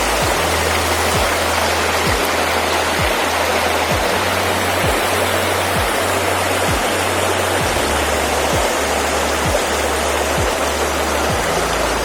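A waterfall with rapids in Northumberland rushing in a loud, continuous broadband roar close by, with faint regular low knocks beneath the water and no voices.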